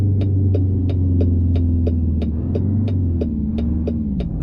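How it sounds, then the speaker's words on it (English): A Ford L-Series 8000 truck engine in American Truck Simulator drones steadily with a tonal turbo whistle over its low rumble, broken by a regular ticking beat. "you can definitely hear that turbo whistle really nicely."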